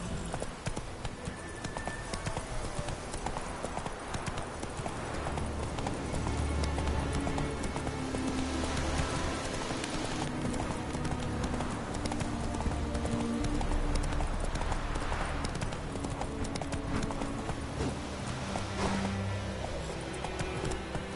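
Hooves of a ridden horse clip-clop in a steady rhythm for about twenty seconds, fairly close and continuous, with some outdoor background noise and no talking.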